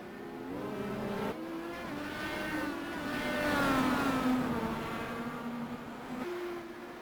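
IndyCar race cars in the iRacing sim at Canadian Tire Motorsport Park roar past, their high engine notes rising and bending in pitch as they approach and sweep by, loud and close, with no talk.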